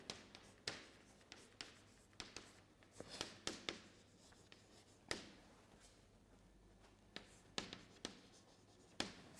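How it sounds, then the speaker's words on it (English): A marker or pen taps and scrapes across a writing surface as an equation is written by hand, with quiet, irregular strokes and sharp clicks spread through a faint, still room. "So let me write it down"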